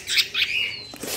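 A young Javan bulbul being handled gives a few sharp, high chirping calls in quick succession, close and moderately loud, with short gaps between the notes.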